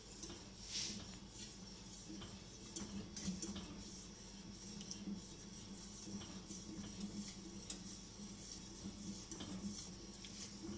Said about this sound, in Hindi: और साथ साथ विस्क को आपने चलाते जाना है।